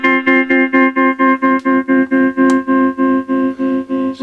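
A guitar chord is strummed repeatedly in an even, pulsing rhythm through a 1961 Gibson Maestro Reverb Echo unit, each strum smeared with warbling reverb and echo; loud and close, no voices.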